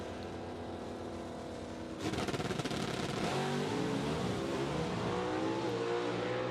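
A drag racing car launches and accelerates hard down the strip in an NHRA-style event, a sudden loud roaring engine blast after two seconds of quieter rumble, sustained and dense to the end.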